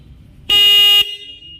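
A Bajaj Pulsar N150 motorcycle horn gives one loud, close, half-second beep that cuts off sharply, set against quiet background noise.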